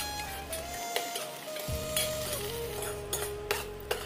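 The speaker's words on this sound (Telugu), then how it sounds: "కొత్తిమీర ఫ్రై అయిపోయింది." Coriander leaves frying in a pan for peanut chutney, a steady close sizzle with light stirring scrapes and occasional clinks of a utensil against the pan.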